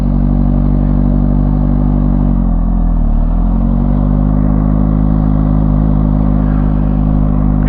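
CFMOTO 750SR-S motorcycle engine running steadily close by, a loud even drone with a brief dip in pitch as the clutch is released and the bike begins to pull away, no talking.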